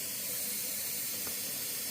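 A sink filling from a hot water tap, ready for washing raw Karakul wool, with a steady rushing hiss of running water that stays close and even.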